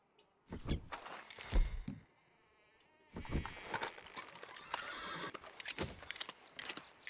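Horses in the Red Dead Redemption 2 game whinny loudly in two bursts separated by a brief lull, with snorting and hoof clops mixed in close by.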